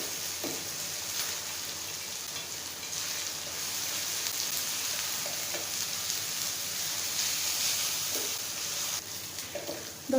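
Ginger garlic paste frying in oil in a karahi for chicken karahi, a steady bright sizzle throughout with occasional soft stirring scrapes.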